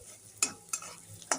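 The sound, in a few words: frying minced onion and garlic with stirring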